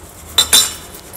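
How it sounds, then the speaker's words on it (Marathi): A metal spoon scrapes and taps against a sieve, pressing lumps of powdered sugar through for crunchy Kulkuls, in two short, bright clinking bursts close by. "व्यवस्थित चमच्याने आपण ह्याला स्मॅश करून ही चाळून घेणार आहोत पूर्ण।"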